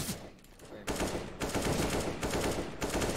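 Rapid automatic gunfire sprays in loud, sustained bursts in a Counter-Strike-style competitive shooter, the volleys separated by brief gaps and close to the listener.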